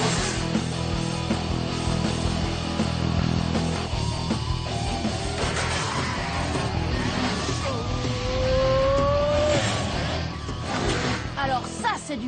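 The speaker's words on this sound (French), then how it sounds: "J'ai l'impression que le moteur de ta voiture est encore plus vieux que moi." An old race car engine in a mini grand prix, a steady roaring drone that revs and whines through the whole stretch. Music or other game sounds likely play alongside it.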